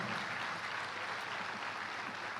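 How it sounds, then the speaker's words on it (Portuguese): A church congregation claps together in a brief, even burst of applause, moderately faint and sustained without pause. "Aplaude a Deus, aplaude a igreja."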